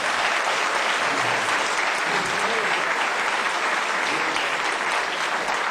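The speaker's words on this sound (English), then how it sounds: "Give yourself a round of applause." Applause from a very large outdoor crowd at a 2015 Elvis memorial tribute in a park, a thick, loud and unbroken roar of clapping that lasts nearly six seconds.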